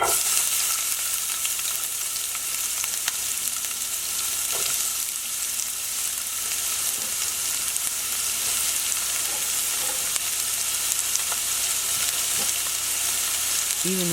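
Steady, dense sizzle of food frying in hot grease in a skillet, loud and close, with faint clinks and stirring noises throughout.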